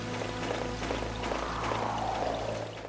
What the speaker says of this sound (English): All I can really hear is the overwhelming rush of water from the nearby falls.